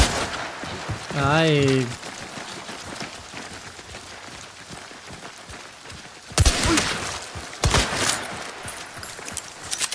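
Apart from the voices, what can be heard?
Sparks pistol gunshots in the video game Hunt: Showdown 1896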